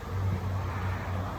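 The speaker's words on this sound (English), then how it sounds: "Sorry about the car noises going by." Steady low roar of a car passing by outside, a broad muffled rumble filling the short stretch without voices.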